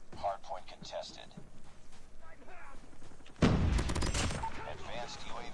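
Gunfire in the COD Mobile shooter, with a loud burst of shots and explosive blasts erupting partway through after a stretch of game voice announcements and talk, continuing under further chatter.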